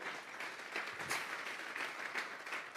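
A church congregation claps together in applause as an offering of praise, a dense continuous patter at moderate distance that stays fairly even for a few seconds with no speech over it.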